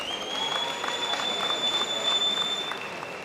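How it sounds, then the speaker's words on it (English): Audience clapping at a Build One South Africa campaign event, a brief, fairly faint patter of many hands under a steady high electronic tone. "we would want you to take a round of applause for yourself, our foot soldiers"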